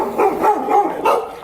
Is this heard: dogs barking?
yes